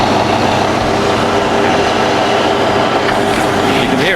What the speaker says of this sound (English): When I turn this drill on, I turn my dust extraction system on as well.